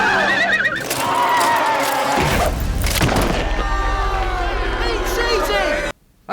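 A horse whinnies loudly amid a busy mix of voices and crowd noise, with thuds and hoofbeat-like sounds, ending abruptly.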